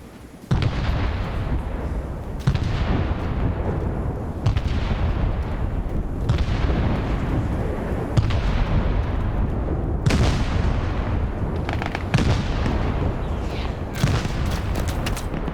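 Heavy mortar rounds landing in a large Vietnam-era PvP game match, a series of loud booming impacts roughly every two seconds, each with a long rumbling decay over constant battlefield noise.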